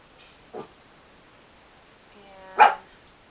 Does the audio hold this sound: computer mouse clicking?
no